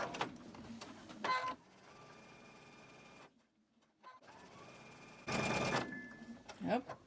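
Electronic sewing machine sounding its bobbin-low warning in short bursts between stretches of quieter motor hum, with a brief near-silent gap midway.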